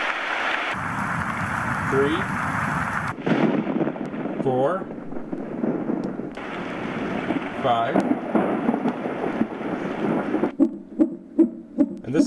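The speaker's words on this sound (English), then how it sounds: "And this one is rain" Rain played on a PICTEK white noise machine, a dense hiss of falling rain with cuts and shifts between settings, steady and close under a voice counting aloud, with a few low thumps near the end.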